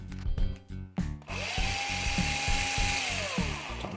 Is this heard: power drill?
yes